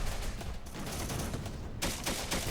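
An automatic grenade launcher fires in a Syrian Warfare battle in Aleppo, sounding as quick, rattling bursts of shots that come in several clusters at a moderate distance, fairly quiet overall.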